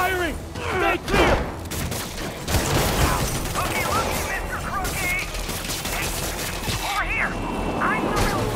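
Rapid gunfire crackles through a wharf battle in Marvel's Spider-Man Remastered, steady automatic bursts with mechanical clatter, while voices shout over the shooting.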